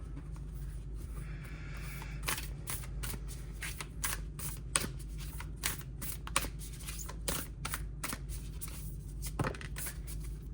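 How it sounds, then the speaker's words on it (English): Rapid riffling card shuffles, a series of crisp flicking bursts repeating through the clip, close up against a low steady hum. "I'm just going to start shuffling the cards and see what comes."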